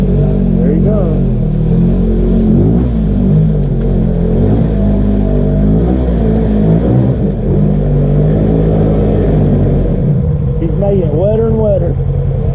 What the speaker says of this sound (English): all four tires are just on that clay, just slipping.